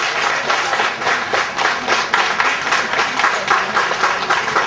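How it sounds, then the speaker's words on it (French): Ceremony audience applauds a retiree at a New Year's gathering, a sustained, even wash of many hands clapping for several seconds with no talk over it. "Des applaudissements s'il vous plaît."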